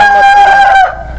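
At a tiger chicken poultry farm in Magura, one bird lets out a loud, close, nasal honking call that lasts about a second before fading into quieter farm background.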